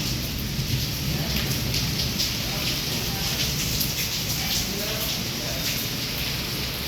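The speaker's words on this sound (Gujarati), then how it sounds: "જો વરસાદ પણ ચાલુ છે આપને એનો જ પણ અવાજ આવતો છે" Steady heavy rain pours without pause during a thunderstorm, a dense hiss filling the whole stretch at an even, close level, with lightning flashing overhead and wind blowing.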